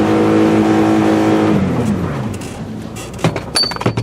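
A Toyota van engine revs in snowy conditions, a loud close drone that falls away as the revs drop, followed by a few sharp clunks and knocks near the end.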